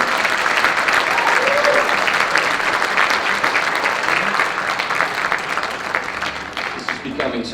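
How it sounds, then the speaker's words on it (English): A school audience at a Veterans Day event claps in a sustained, dense round of applause that slowly thins out toward the end, with a voice faintly heard over it. "Let's give them a round of applause."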